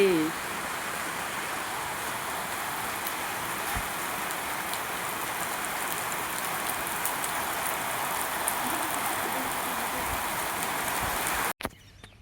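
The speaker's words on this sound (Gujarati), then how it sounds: "જો વરસાદ ફૂલ પડે છે" Steady heavy rain pours down in Surat, India, in a dense, even hiss that goes on throughout, with a brief sharp cutoff near the end.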